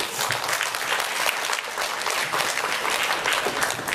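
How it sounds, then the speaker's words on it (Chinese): A crowd claps steadily, a sustained round of applause from many hands, fairly close and even throughout. "我们就掌声欢迎"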